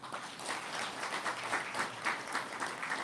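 An audience claps for an elderly mother, steady rhythmic applause with gentle pulses, heard close and alone without talk.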